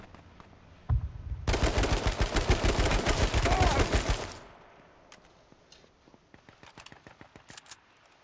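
Rapid automatic gunfire from a gun in the video game H1Z1, one loud sustained burst of about three seconds that cuts off abruptly, followed by quieter scattered clicks and faint distant shots.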